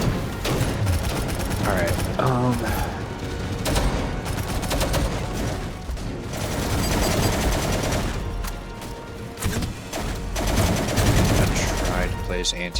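Turret gunfire in the sci-fi shooter game Angels Fall First, heard as dense rapid bursts mixed with explosions and mechanical game noise, loud and continuous, with someone talking over the battle.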